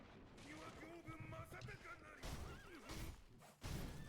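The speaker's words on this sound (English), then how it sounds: "I've got my generic horse sound pack number 3" Horse neighs from a generic horse sound effect pack, several whinnying calls in a row with rising and falling pitch, loud and close, with a brief pause partway through.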